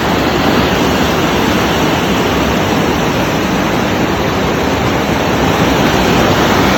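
Loud, steady roar of rushing water in the Victorian High Country, like a close waterfall, filling the whole clip with continuous broadband noise and no voices.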